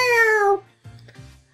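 A cat meows once in the video game Tales of Xillia 2, a loud, clear, falling cry lasting about half a second, followed by quieter game sounds.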